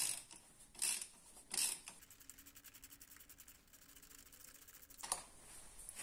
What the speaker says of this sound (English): ratchet extension, and the ratchet go right in there. Here, click.